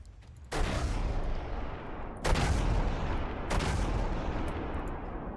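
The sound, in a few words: CRAM guns firing in a naval battle video game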